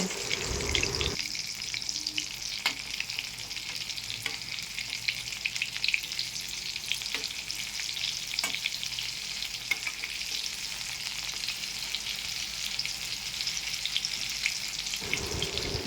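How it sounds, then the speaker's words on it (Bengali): Fish roe fritters fry in hot mustard oil, giving a steady, close sizzle that runs unbroken for most of the stretch, with faint clinks of stirring and no talk. "এবার মাছের ডিমের বড়াগুলো ভেজে নেব"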